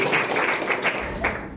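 School students applaud their junior high student council leader, a short, fairly faint patter of clapping with a few louder individual claps standing out.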